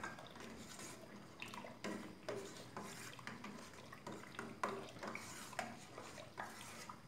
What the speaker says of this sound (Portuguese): Então a gente mistura